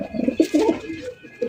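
Racer pigeons at a pigeon sale coo in short, close, throaty bursts, several soft rolling calls following one another quickly.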